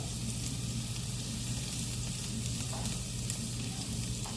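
Curry leaves crackle and hiss in hot oil as the tempering begins for a brinjal and drumstick kara kuzhambu, a dense, steady sizzle with occasional sharper pops and no voices.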